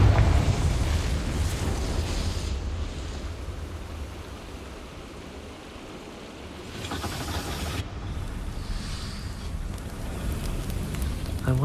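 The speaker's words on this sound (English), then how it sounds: "Confringo!" A Confringo fire blast spell from the Hogwarts Legacy video game gives broad roaring, whooshing bursts of fiery noise, loud at the start and surging again partway through.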